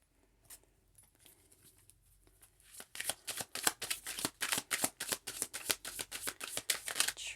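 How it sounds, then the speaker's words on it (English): Tarot cards being shuffled nearby: a few soft riffles at first, then a rapid, steady run of crisp flutters and slaps, with no talking. "One more shuffle"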